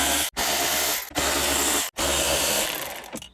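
A ratchet backs out the 7 mm screws holding the radio in a 2021 Jeep Gladiator. Loud, close, continuous clicking runs in three bursts split by brief pauses.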